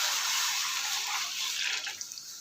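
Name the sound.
water poured into pot for saag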